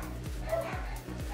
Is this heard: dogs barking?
yes